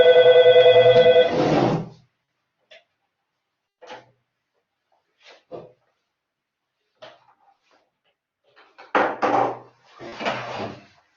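A telephone rings loudly in an office for about a second and a half, a steady electronic trill that then stops. Scattered light knocks and handling sounds follow, and brief talk comes near the end.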